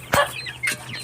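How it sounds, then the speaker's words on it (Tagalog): Week-old chicks peep in a few short, high-pitched calls close by, with a faint steady hum underneath. "1 week at day old ko na mga sisiw. Tingnan nyo."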